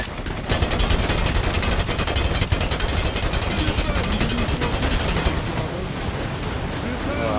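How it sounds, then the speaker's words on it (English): Sustained gunfire from Warhammer Eternal Crusade, dense rapid shots and bursts over a busy battlefield din, loud and continuous throughout. "It's people shooting us."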